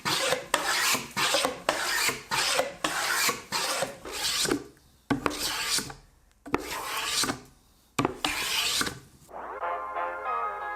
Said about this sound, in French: des coins en chêne massif que je rabote à la main à 45 degrés